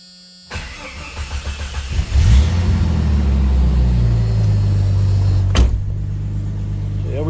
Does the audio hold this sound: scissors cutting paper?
no